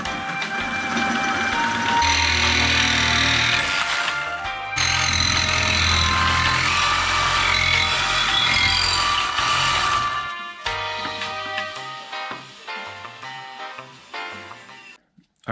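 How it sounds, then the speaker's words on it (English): A power tool grinds and cuts away parts of a car brake spindle during a C6 brake upgrade on a third-generation Firebird/Camaro, loud and harsh for about ten seconds before tapering into intermittent clanks. "we gotta trim off these parts of the spindle"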